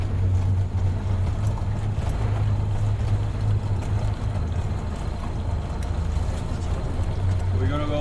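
A small tour boat's motor drones steadily and loudly close by as it sets off on calm water at La Parguera, with water wash around it and people talking over the engine.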